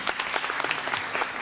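Brisk audience clapping at a live spoken-word show intro, a loud burst of many hands with sharp, uneven claps throughout.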